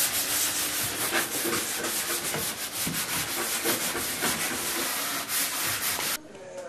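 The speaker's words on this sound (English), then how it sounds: "we're using a sanding block appropriate to sand the surface of the counters to prepare it for the primer" Steady, rapid rasping of a sanding block scrubbed back and forth across a hard countertop surface, loud and close, continuing throughout.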